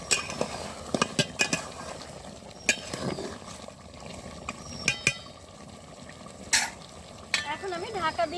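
Chicken pieces sizzle in a pan while being sautéed, with repeated scraping and clattering stirs of a utensil over a steady frying hiss, heard up close.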